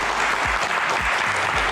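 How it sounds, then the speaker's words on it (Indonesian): Audience applause at a live Indonesian Q&A event with a general on stage, a steady dense wash of clapping filling the whole moment, with a few low thumps underneath. "tepuk tangan sekali lagi"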